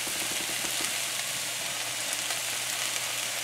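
Shrimp and okra fry in a pan in Guyanese home cooking, giving a steady, close, even sizzle with no talk.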